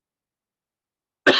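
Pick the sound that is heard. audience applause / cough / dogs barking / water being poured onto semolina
cough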